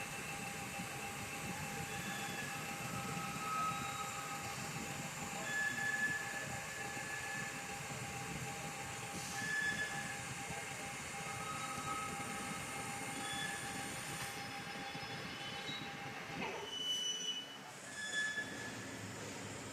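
A lathe spins a bicycle dropper post at 500 RPM with a slow feed, making a steady droning hum with thin whining tones that runs throughout and dips briefly near the end.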